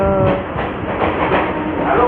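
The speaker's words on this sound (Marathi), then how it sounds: "मी आता लोकलमध्ये चाललो आहे" Rumbling ride aboard a Mumbai local train, a steady dense rattle of the carriage on the rails filling the clip at constant loudness, with no voices.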